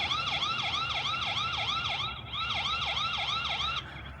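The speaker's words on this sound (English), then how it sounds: "It's like a low quality recording of a police siren." A security camera's small speaker blares a tinny, looping police siren wail, rapid and steady, with a brief dropout midway before it resumes.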